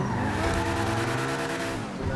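A Lamborghini Sion in GTA 5 skids with a loud, sustained tire screech and engine drone for about two seconds, fading slightly at the end.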